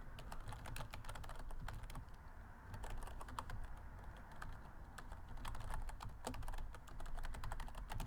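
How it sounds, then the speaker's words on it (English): Steady, rapid typing on a computer keyboard set low, keys clattering continuously and closely for the whole stretch with no talk. "I never type on keyboards this low"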